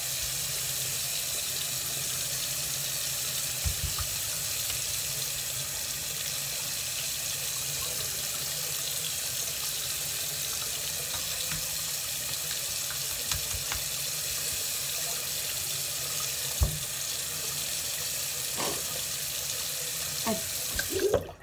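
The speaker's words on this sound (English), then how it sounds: "Turn on some water." Tap water runs steadily into a bathroom sink while a makeup brush is rinsed, a constant close hiss with occasional small splashes and clinks.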